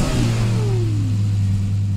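A Koenigsegg V8 engine revs fast, its pitch sweeping quickly and then settling into a loud, close, steady drone for about two seconds with no talking.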